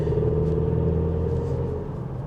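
A 2021 Mercedes C300 Cabriolet's engine pulls steadily while the car accelerates, giving a continuous low rumbling drone with a faint rising tone and no talk over it.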